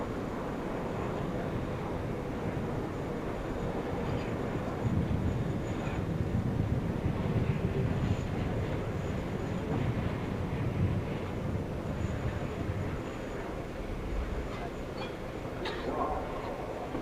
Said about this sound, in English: we get a bonus pass from the A350 with gear down, as the A380 is clearing the runway